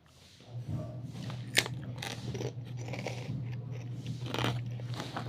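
Crunchy snack, including milk sticks, being bitten and chewed close up, with a sharp crunch early on and steady crackly chewing throughout over a low constant hum.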